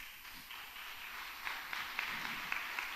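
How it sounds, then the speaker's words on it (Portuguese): A church congregation claps faintly and at a distance, a soft spread of applause with a few sharper hand claps standing out toward the end. "Pode aplaudir forte."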